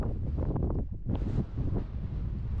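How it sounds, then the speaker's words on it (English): Strong wind buffets the microphone in a steady, rough roar with brief lulls on the rocky, cold slopes of Mount Fuji, no voices heard. "it's super rocky, windy, and really cold"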